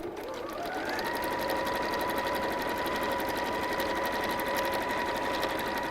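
A sewing machine stitches a pleated fabric bag in a continuous fast whirring run with a rapid needle patter, close and steady, while the handles are moved aside.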